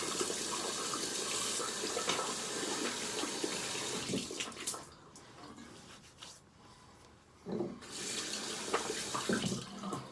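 A bathroom tap runs steadily for wet-shaving lather, a close, broadband water hiss that drops away for about three seconds midway and then resumes strongly, with faint handling noises.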